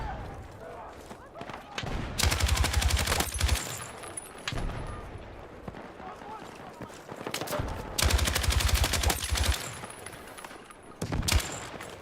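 Gunfire in the video game Battlefield 6 beta with snipers in action: bursts of rapid loud shots in two long volleys plus scattered single cracks, with a player talking over the game audio.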